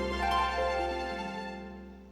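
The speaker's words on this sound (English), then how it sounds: "the beautiful morning car horn, which sounds a bit like this." A sustained, musical multi-tone horn chord rings out and slowly fades away, a melodic car horn in Forza Horizon 5.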